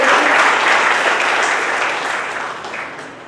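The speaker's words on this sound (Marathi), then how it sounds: "जोरदार टाळ्या पुन्हा एकदा रेणुकासाठी" Applause at a college foundation day ceremony for an honoured student, a loud, dense wash of clapping from the audience that gradually fades toward the end.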